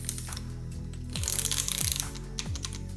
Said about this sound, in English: Just high level feel and sound of the keyboard.